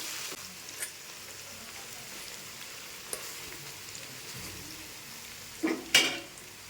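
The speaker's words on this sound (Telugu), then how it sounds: "ఇందులోనే ఒక ఫైవ్ మినిట్స్ మనం ఫిష్ను ఆయిల్లో ఇట్లా ఫ్రై లాగా చేసుకున్నాం" Marinated fish fries in hot oil in a pan with a soft, steady sizzle, broken by a few sharper pops and utensil taps near the end.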